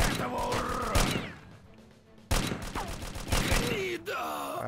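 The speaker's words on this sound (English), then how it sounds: "I seem to be doing better by just firing it single shot at a time" Gunfire rings out from a weapon in the sci-fi game Precursors. A few loud single shots are spaced out, with metallic ringing and game effects between them. Someone talks over part of it.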